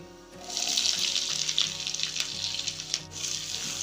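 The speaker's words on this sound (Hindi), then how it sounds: "अब इन्हें 1 मिनट भून लेंगे।" Asafoetida, cumin, mustard seeds and chopped green chillies frying in hot oil in a pan: a loud, continuous close crackling sizzle with light popping and stirring, no voices.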